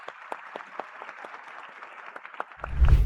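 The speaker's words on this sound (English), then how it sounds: "please give a big round of applause for all of these students" An audience at a university freshmen orientation event applauds, a steady patter of many hands clapping at moderate distance, with a louder low rumble joining in the final half second.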